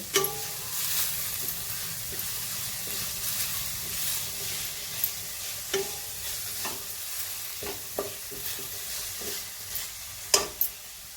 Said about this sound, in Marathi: कांदा टॅमॅटो आपण गुलाबी रंगावर असा परतून घ्यायचा आहे